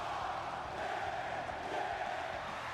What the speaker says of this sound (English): And just listen to that crowd.